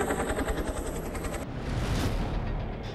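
A helicopter patrols over the Sunjuwan army camp in Jammu after a terror attack, its steady chopping rotor drone loud and continuous, rumbling throughout with no talk.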